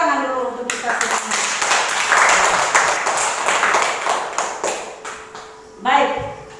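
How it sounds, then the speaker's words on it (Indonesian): A classroom of students claps together, a dense burst of applause that swells and fades over several seconds, followed by a short second flurry of clapping near the end. "Tepuk tangan dulu untuk kita semua"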